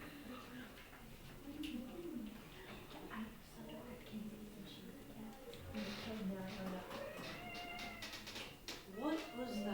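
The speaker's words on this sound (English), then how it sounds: "that's what this cat kept doing. It was like talking" A cat meows repeatedly in drawn-out, wavering calls that sound almost like talking, close and fairly steady over a low background murmur.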